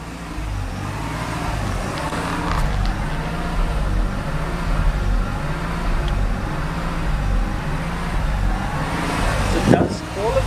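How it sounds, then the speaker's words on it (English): A Mazda RX-7 FD rotary engine idles with a slow, rhythmic hunting rise and fall in its rumble, steady and close, with a brief clunk near the end. "So the car's doing a little bit of hunting at the moment."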